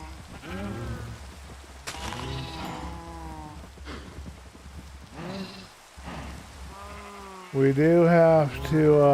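Sheep in a video game bleating several times in separate calls, the last bleat louder and closer, with a steady patter like rain underneath and someone talking over parts.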